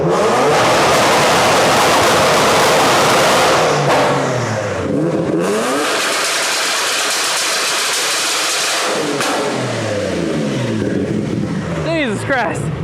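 A Nissan 240 engine runs loud and close, revving hard, then dropping back toward a rumbling idle before climbing again, with voices talking over it.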